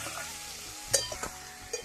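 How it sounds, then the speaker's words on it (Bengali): Eggplant slices fry in oil in a home kitchen, giving a soft continuous sizzle with a few faint clinks and pops. "ওই তেলেই বেগুন ভাজা হচ্ছে।"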